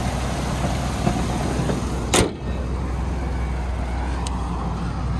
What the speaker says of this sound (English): Six cylinder. Sounds pretty smooth, no misfires.